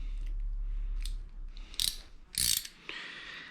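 Close ratchet clicks as a wrench loosens bolts on a KTM 1190R engine, a few short bursts of sharp pawl ratcheting separated by brief pauses.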